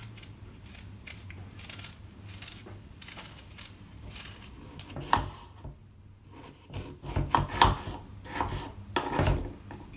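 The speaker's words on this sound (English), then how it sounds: "Chop everything nice and small" Cucumber and apple being chopped small on a cutting board for a smoothie, with a series of close, irregular knife knocks and scraping rubs, louder toward the end.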